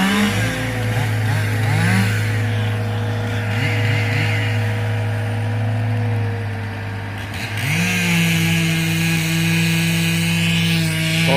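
A chainsaw runs steadily while cutting a hard-leaning tree outdoors, its engine droning loud and close for the whole stretch with rising and falling pitch as the throttle shifts, no voices over it.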